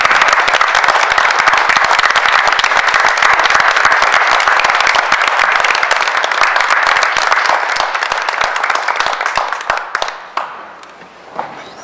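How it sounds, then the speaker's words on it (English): A school board meeting audience claps for a Student of the Month honoree, with dense, loud, steady applause for about ten seconds that thins out and fades to scattered claps at the end. "let's give Liana a big round of applause for obtaining this great honor."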